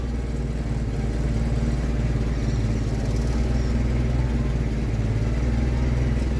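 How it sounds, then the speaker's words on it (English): Forklift engine running steadily and loudly while lifting a custom truck tray, a continuous mid-pitched motor drone with faint clatter throughout and no voices. "So I'll lift this up with the forklift"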